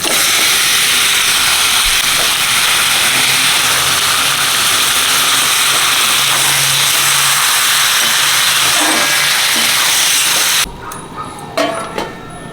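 Mutton pieces frying in a hot pan with ginger and garlic for a curry, giving a loud, steady broadband sizzle that runs for about ten seconds, then cuts off abruptly, leaving faint kitchen clatter and small knocks.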